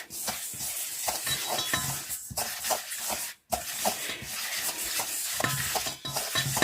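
Sugar and butter are creamed together with a spoon in a bowl, giving close, continuous scraping and rubbing strokes with a brief pause partway through.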